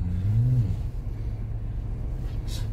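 Hyundai Casper with an aftermarket exhaust idling close by, a steady low engine rumble holding throughout with a brief rise in pitch near the start.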